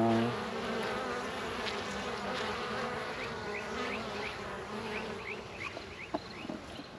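A dense, steady buzz of many bees swarms around a hive in a garden, with individual bees zipping past close by, under faint background sounds and no voices.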